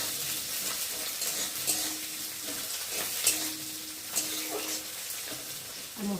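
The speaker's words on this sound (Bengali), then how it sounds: "কাঁচা লঙ্কাও দিয়ে দিলাম ভাজা পেঁয়াজের সাথে।" Green chillies frying with fried onions in oil in a kadai, a steady close sizzle broken by several sharp scrapes and clinks of stirring, with faint talk at times.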